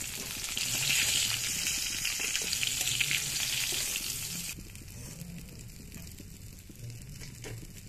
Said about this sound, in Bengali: দেখো এই তেলটার মধ্যে একটু কালো জিরে দিলাম, ফোড়ন,